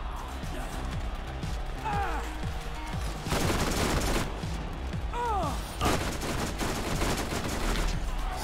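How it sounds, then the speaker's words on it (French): Dense gunfire and explosive blasts in the Borderlands DLC Mad Moxxi's Underdome Riot, rocket launcher shots booming amid continuous weapon fire, with heavy bursts around three and six seconds and voices talking over the chaos. "C'est quoi qui nous tire des lance-roquettes là?"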